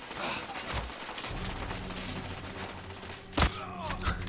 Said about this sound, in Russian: И у них тоже с глушителем пушки.